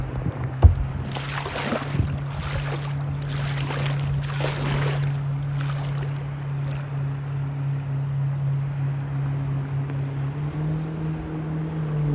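Kayak running rapids on the Yellowstone River, rushing water and splashing under a steady low engine-like hum, with loud swooshing surges early that settle into a constant roar, no talking.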